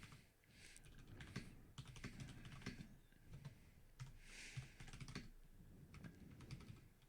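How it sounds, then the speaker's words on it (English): Someone typing on a computer keyboard, an uneven stream of quiet clicking keystrokes in short bursts and pauses, faint and close, with no one talking. "Steven's typing."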